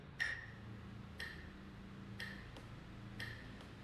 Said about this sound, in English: the metronome here is set to 60 beats per minute, and it sounds like this